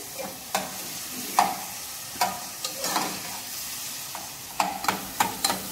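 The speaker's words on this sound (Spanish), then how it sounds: "Ya está frito el tomatito y la cebolla" Tomato and onion fry in a pan for Salvadoran arroz con chipilín, a steady close sizzle broken by repeated scraping stirs and clinks of a utensil, with no talking.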